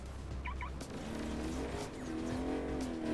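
A car driven in the video game Agents of Mayhem, its steady engine drone rising in pitch toward the end with a brief squeal-like chirp early on, loud and continuous with no talk.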